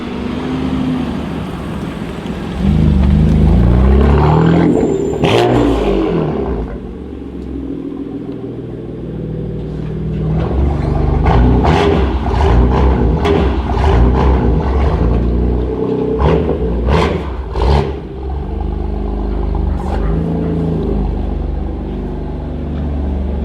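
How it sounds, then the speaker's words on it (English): A BMW F80 M3 with a non-resonated switch-path exhaust revs loudly nearby, a deep rumbling idle broken by repeated sharp throttle blips in a quick series. "BMW switch path exhaust, non-resonated."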